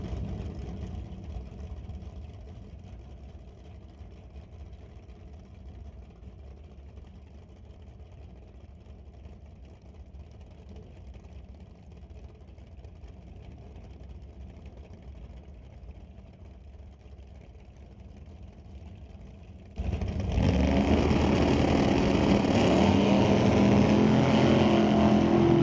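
A 1934 Ford drag car with a 427 Chevy engine at a drag strip, first a steady low engine rumble heard from a distance, then a sudden loud, sustained roar over the final five seconds.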